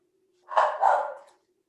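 A dog gives one double bark over a faint steady hum during a remote legislative meeting. The bark is close and moderately loud.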